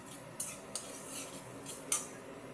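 Black cumin seeds tempering in hot oil in a pan, a faint soft sizzle under three or four sharp metallic clinks of a spoon stirring against the pan, close and quiet.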